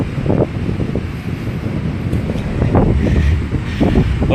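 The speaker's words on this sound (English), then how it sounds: "Well, we still have some decent wind," Strong wind buffets the microphone on Clearwater Beach the day after Hurricane Irma, a steady loud roar with gusts swelling toward the end, surf faintly underneath.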